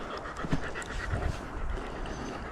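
A dog pants steadily and fairly close during a rest on a mountain bike ride near Hyères in the Var, France, with outdoor background noise running throughout.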